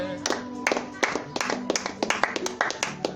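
Congregation clapping during a prayer service, sharp hand claps in an uneven rhythm with a sustained voice or tone running underneath, close and moderately loud.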